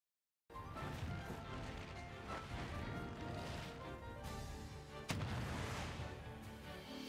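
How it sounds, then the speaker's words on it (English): A Super Smash Bros. Ultimate match erupts in a dense, continuous crash of game explosions and impacts, loud and busy throughout, with a sharp burst late in the clip. "Explosion!"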